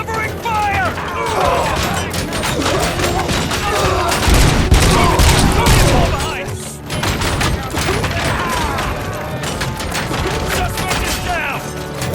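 Heavy gunfire in RoboCop: Rogue City, dense rapid shots and impacts continuing for several seconds with a brief lull midway, loud and close, with voices shouting underneath.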